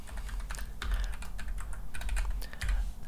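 Someone types a channel name on a computer keyboard: quiet, close key clicks in irregular bursts with brief pauses and a few firmer taps.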